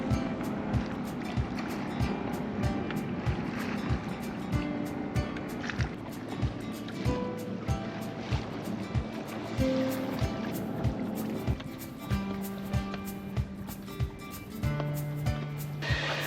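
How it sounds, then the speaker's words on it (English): Sailboat under way offshore toward the Bahamas, with steady rushing water and wave wash along the hull, regular slapping thumps and creaks, continuous and moderately loud throughout. "We are sailing, we are on the way."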